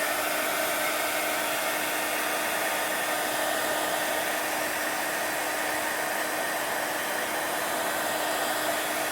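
A hair dryer blowing on an art journal page, a loud steady whooshing roar that runs unbroken and close throughout.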